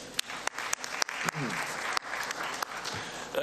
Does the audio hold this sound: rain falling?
no